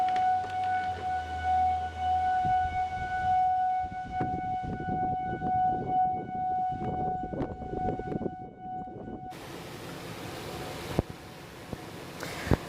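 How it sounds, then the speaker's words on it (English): Flood warning sirens in the Minot area wail with a steady, sustained tone over a low rumble before cutting off abruptly, followed by faint background noise and a few small knocks. "the day the sirens went off."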